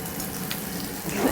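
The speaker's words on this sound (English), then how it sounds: "We have our shrimp being sautéed." A short burst of hissing sizzle from shrimp sautéing in a hot pan, close by and moderately loud, with a faint scrape near the end.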